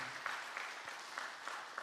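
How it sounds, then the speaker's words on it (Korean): A church congregation applauds at an elder's retirement service, faint and distant, with soft steady clapping and a few louder claps over under two seconds. "박수로 뜨겁게 격려해 주시기 바랍니다"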